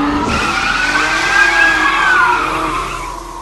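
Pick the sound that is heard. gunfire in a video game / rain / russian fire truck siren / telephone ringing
russian fire truck siren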